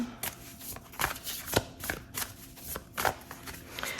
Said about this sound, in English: Let's draw a card for you.